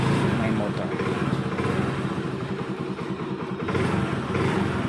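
Honda Beat 110 motorcycle engine running steadily at close range, a continuous low rumbling drone that holds even in loudness throughout.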